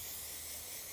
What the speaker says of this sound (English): Okay, and then we're going to spray the back.